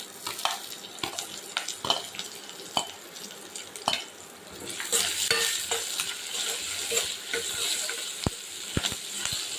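Dried red chillies, green chillies and onion frying in hot oil for spicy poha chudva, a close steady sizzle with frequent spoon scrapes and clinks against the pan, growing louder and busier partway through, no talking.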